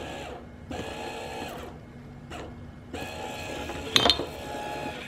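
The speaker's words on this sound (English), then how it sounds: "you can see the gears turning, which turns the rod, and the rod is moving away from it" A 12-volt linear actuator's small motor turns its gears and drive rod, producing a steady, fairly quiet mechanical whir that starts and stops in short runs, with a brief clink near the end.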